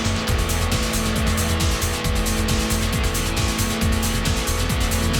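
A race car in Gran Turismo on the PS1, with a continuous loud engine note that rises and falls in repeated pulses as the throttle is tapped through corners, mixed with tire squeal and in-game music.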